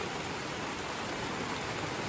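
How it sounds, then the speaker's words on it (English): Steady rain falls outside a tarp-covered camp on a wet morning, a continuous even hiss with no breaks and no voices. "oh, if this rain ever stops this morning"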